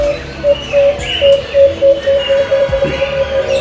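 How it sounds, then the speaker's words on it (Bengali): Birds call in a garden aviary where doves and parrots are kept, a steady high whistling note repeating with softer chirps and coos around it at moderate distance, without talk. "এই যে পাখির ডাক"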